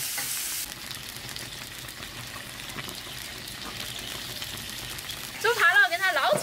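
Pork trotters simmering in a pot of beer and water with dark soy sauce give a steady, close bubbling hiss throughout, with a louder, sharper flurry of sound at the end.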